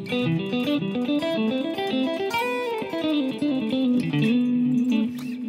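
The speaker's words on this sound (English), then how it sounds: "you can also add an extra note from the hexatonic scale to each one of those triads, and that's going to give you seventh arpeggios." Electric guitar running quick seventh arpeggios drawn from a hexatonic scale, a fast stream of picked notes with light distortion, played up close and moderately loud with no talking.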